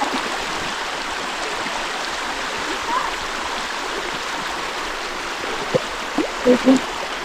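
A river current rushes steadily and continuously in Occidental Mindoro, with a few faint knocks near the end.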